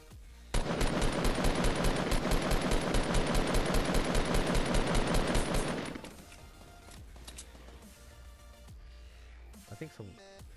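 A long, loud burst of rapid automatic gunfire in Fortnite, fired shot after shot for about five seconds, then cutting off into quieter game sounds and a few scattered noises.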